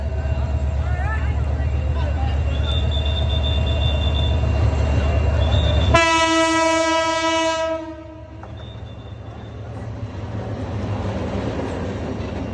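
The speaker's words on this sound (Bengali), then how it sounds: "এদিকে আরেকটা ট্রেন চলে আসছে" A train approaches the Moghbazar railway crossing in Dhaka, with a steady low rail rumble before one long, loud horn blast near the middle that then fades. Crowd noise and voices carry on underneath throughout.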